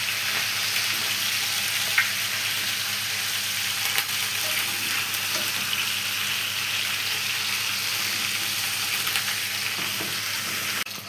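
Chicken pieces sautéing in a pan for a potato and chicken tray bake, a steady close sizzle running throughout with faint scattered clicks of stirring, no voices.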